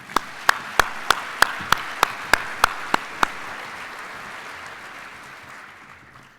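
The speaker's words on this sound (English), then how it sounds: "Let's give them one more round of applause." Applause from the audience at a builders' association conference: about ten sharp, evenly spaced claps ring out close by over a broad crowd clapping, which then tapers off into fading murmur.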